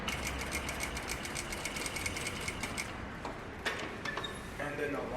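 A sewing machine stitches a button-up shirt, a steady rapid mechanical whirr with a fast needle rhythm for about three seconds, then stops as handling noises and faint sounds follow, fairly close and moderately quiet.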